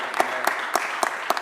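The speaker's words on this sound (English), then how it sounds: "Please give him a round of applause." Audience applause at a Philadelphia mayoral bill-signing event, heard as a few distinct claps at a steady rhythm rather than a full ovation, fairly close.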